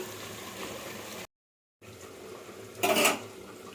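A lid placed over a pan of potatoes and capsicum frying in oil gives one brief, close metallic clatter, set against a soft background of frying.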